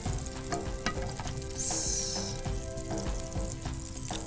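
Butter sizzles and fries in a pan for cheese corn masala, a steady close crackle with a few scraping stirs partway through and no voices.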